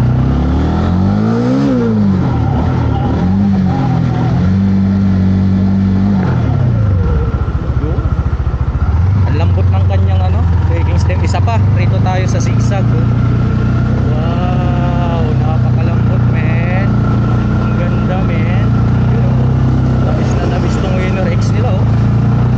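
A Honda Winner X 150 Racing Edition motorcycle revving and riding, its engine rising and falling in pitch as it accelerates, loud and close under continuous talking.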